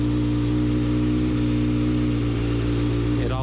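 A Kawasaki ZX-6R motorcycle engine fitted with an aftermarket muffler runs steadily and loud up close, a deep continuous exhaust drone with a slight shift near the end.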